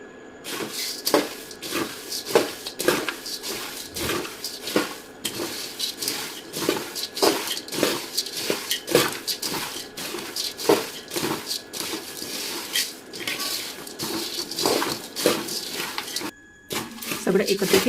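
Puffed rice chivda mixture tossed and stirred by hand in a metal pot, a continuous dry rustling and crunching with repeated scraping strokes against the pot, close and fairly loud.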